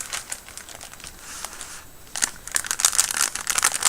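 Crinkly Prima paper and filigree pieces handled up close, a steady run of crisp rustles and crackles that grows busier and louder toward the end.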